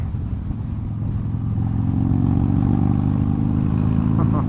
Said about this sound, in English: Love riding a motorcycle.